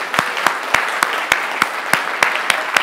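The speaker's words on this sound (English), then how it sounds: "So can we give my incredible team a huge round of applause?" A group claps in a steady, evenly spaced rhythm, roughly three to four sharp claps per second, fairly close and loud with little crowd noise beneath.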